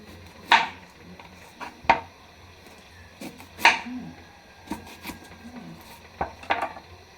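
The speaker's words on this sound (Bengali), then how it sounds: "তো পেঁয়াজটাকে কেটে নিই।" A knife chops through an onion on a board in a home kitchen, a handful of sharp, separate knocks spaced a second or so apart, close and clear over a quiet background hum.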